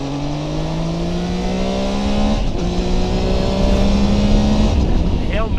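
Triumph Tiger Sport 660 three-cylinder motorcycle pulling hard in third gear, its engine note climbing steadily and loud with a brief dip near halfway, wind and road roar throughout and a rider talking over it.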